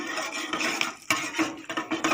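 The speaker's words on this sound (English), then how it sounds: "We will saute." Pan sauteing of hing with kadhi ingredients in a kitchen: steady clattering and scraping of a spoon stirring in the pan, close and fairly loud, with short pauses between strokes.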